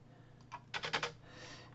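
Quick burst of typing on a computer keyboard, a handful of light keystrokes close by with a brief cluster of faster taps, and nothing else audible.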